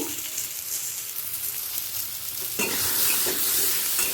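Potatoes and pointed gourd (potol) frying in a pan with salt and turmeric, a continuous close sizzle with stirring scrapes that grows louder and brighter midway through.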